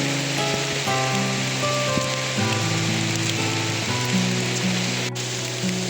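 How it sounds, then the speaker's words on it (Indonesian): Heavy rain pours steadily over a steep, slippery forest hiking trail at Puncak Ciguntur in Sukamakmur, Bogor, as a constant hiss mixed with soft background music, with no talking. "Hujannya makin deras"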